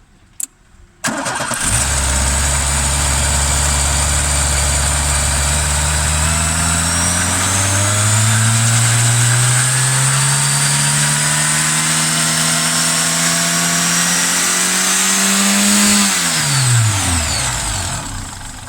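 A nearby Brodway car engine with a faulty manifold starts, then revs up steadily with rising pitch for many seconds before dropping back down, loud and continuous, no talking.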